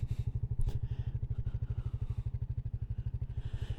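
A motorcycle engine idles steadily nearby, its low regular pulses thumping on evenly throughout.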